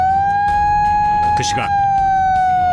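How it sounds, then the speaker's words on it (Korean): Evacuation siren sounding inside a mining tunnel ahead of blasting for a deep vertical shaft, a steady sustained wail held throughout, with brief voices and clatter in the middle. "터널 내부에도 대피를 알리는 사이렌이 울린다."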